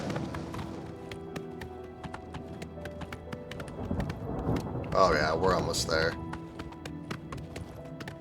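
Horse galloping in the video game Oblivion Remastered, a steady rapid clip-clop of hooves running throughout, with a person talking over it midway.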